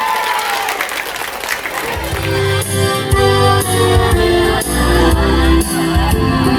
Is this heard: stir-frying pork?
no